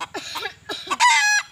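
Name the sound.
wild junglefowl rooster crowing and clucking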